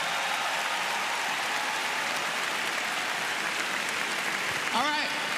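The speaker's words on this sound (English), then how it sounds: "give yourselves a round of applause" A large audience at a shareholders and associates meeting gives itself a round of applause, a continuous dense wash of clapping that holds steady throughout, with a brief voice near the end.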